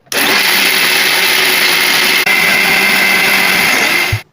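A Morphy Richards AERO plus mixer grinder, a year old, grinding idli batter: a loud, steady high-pitched motor whine runs for about four seconds, with a brief dip midway, then cuts off.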